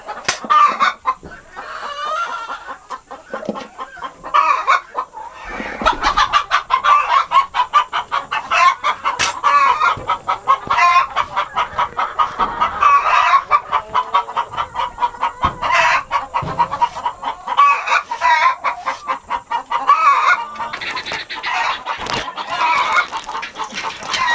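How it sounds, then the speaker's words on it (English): On a homestead, chickens cluck and chatter continuously and close by, with dense overlapping calls and the odd crow from a rooster, and no talk over them. "Chicken."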